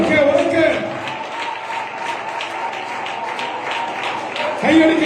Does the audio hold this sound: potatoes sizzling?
no